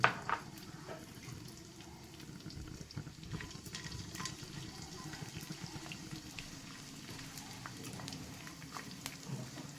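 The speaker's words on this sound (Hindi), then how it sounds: "अब हम इसमें थोड़ा थोड़ा करके गोंद डालेंगे और इसको धीमी आंच पर भूनेंगे।" Edible gum (gond) frying in hot ghee over a low flame, a steady soft sizzle and bubbling with occasional light crackles, close and fairly quiet throughout.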